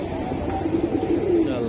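Silver Giribaz pigeons cooing softly in a steady, low, murmuring coo over a dense background hum, close and continuous for a moment.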